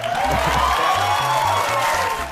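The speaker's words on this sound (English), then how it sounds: "The crowd went wild." Audience applause and cheering fill a live talk event, a steady dense wash of clapping and crowd noise that holds evenly for a couple of seconds.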